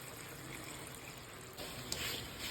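Soft, steady trickle of water pouring into a pot of chicken, faint and continuous, with a slight splash toward the end.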